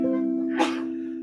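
One short sneeze bursts out in the middle of a steady, sustained C major keyboard chord that keeps droning underneath.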